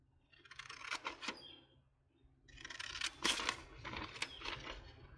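Scissors cut a heart shape out of paper: bursts of crisp snipping and crinkling paper, close and quiet, with a short pause between two runs of cutting.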